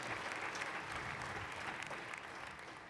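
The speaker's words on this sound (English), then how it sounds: "I'd like you to give a round of applause." Sustained applause from a conference keynote audience, dense steady clapping that holds at an even level throughout with no pause.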